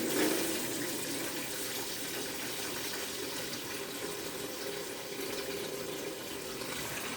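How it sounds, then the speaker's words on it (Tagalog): Cold water runs from a kitchen tap in a steady, even hiss and splash, moderately close, with no talking. "You need to put the cold water"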